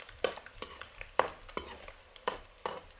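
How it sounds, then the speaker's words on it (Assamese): Fish sizzles in a hot frying pan while a spatula scrapes and flips it in about six crisp, evenly spaced strokes over a constant soft crackle, close up, with no talking. "মই ভাজি আছোঁ মাছ"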